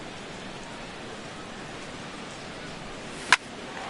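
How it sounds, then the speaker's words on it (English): Steady hiss of heavy rain pouring down in a baseball video game, a constant broadband wash with one brief sharp tick near the end. "Well, that rain is really coming down right now."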